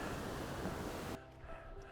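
Strong wind gusts in a valley roar and buffet the microphone in a loud, broadband rush that suddenly drops off, leaving a quieter gusty hiss.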